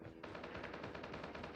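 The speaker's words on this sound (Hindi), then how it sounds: "अब आगे से देखो गन साउंड आ रहा है" Rapid automatic gunfire from the Call of Duty Mobile video game, a steady burst of evenly spaced shots lasting over a second, loud and close with no talking.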